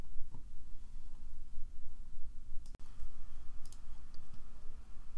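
A computer mouse gives a single crisp click while someone works in PowerSchool enrollment software, a brief near tap standing out from a steady low electrical hum.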